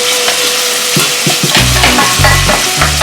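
Ingredients being stirred in hot oil in a pan while cooking tuna pasta, giving a steady close sizzle with several scraping stirs and a low clattering rumble as the spoon moves, with no voices.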